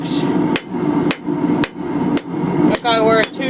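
A hammer strikes a forged steel bar to straighten out kinks and bends, landing about six sharp ringing blows at a steady rhythm, each about half a second apart, over a constant low hum in the background.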